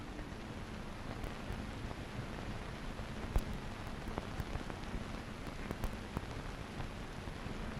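Steady rain falling on a surface, a constant hiss with occasional sharper drips standing out.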